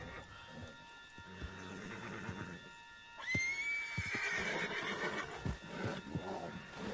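A horse in the Red Dead Redemption 2 video game lets out a loud, close whinny that rises and trails off, preceded by quieter hoof clops and rustling.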